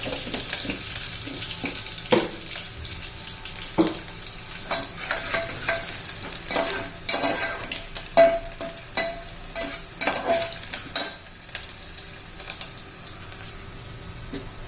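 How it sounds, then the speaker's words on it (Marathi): Onion sautéing in a pan with cloves, chillies, a piece of cinnamon and a bay leaf for chicken soup, a loud continuous sizzle with frequent spatula scrapes and stirring clatter, no speech. "दोन तीन लवंगा दोन तीन मिड्या दालचिनीचा तुकडा एक तमालपत्र हे पण कांद्याबरोबर चांगलं परतून घ्यायचे"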